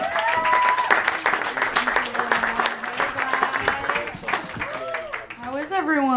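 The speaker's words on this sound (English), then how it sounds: "Please, big round of applause for Liza Treyger, everybody." An audience at a comedy show claps and cheers in sustained, dense applause, with a voice speaking over the clapping throughout.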